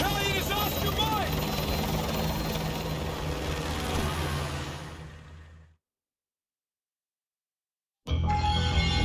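A helicopter in Call of Duty Modern Warfare 2 churns loudly and steadily, fading out to silence before the roar abruptly returns.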